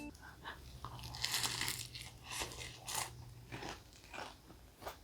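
Kyochon Honey Combo fried chicken bitten with a crisp crunch, followed by close, repeated chewing and crackling bursts at an uneven rhythm, with a faint low hum underneath.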